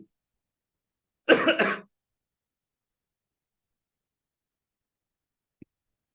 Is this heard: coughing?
yes